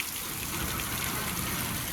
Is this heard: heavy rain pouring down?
yes